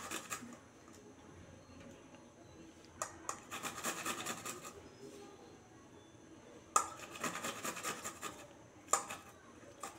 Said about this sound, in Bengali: এবারে 4 কোয়া রসুন দেবো, এটাও ঘষে দেবো।